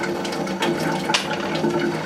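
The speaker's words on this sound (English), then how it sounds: "Make sure the water is set to nice and slow" Lukewarm tap water runs slowly into a sink for washing makeup brushes, a steady close splashing flow with a slight surge midway and no talk.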